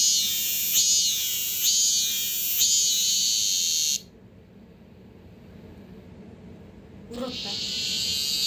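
A Korean chammaemi cicada calling indoors, loud rhythmic pulsing buzzes rising and falling in a repeated pattern, then stopping abruptly into a quiet room before a faint start-up again.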